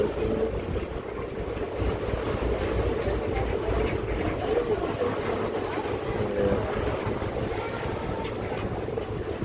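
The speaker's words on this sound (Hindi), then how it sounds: "देखें ये बोट लग रही है इसके साथ" A ferry docking at an island pier near Istanbul, a dense steady rumble of engine, wind and water that runs throughout without clear breaks.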